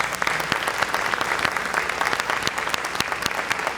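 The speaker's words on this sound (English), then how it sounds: "So one more round of applause." Audience applause at a signing event, steady dense clapping from a crowd filling the whole stretch.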